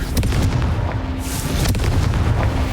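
Confringo blasting spells in the Hogwarts Legacy video game on Nintendo Switch, loud continuous booming explosions and rumbling combat noise close up.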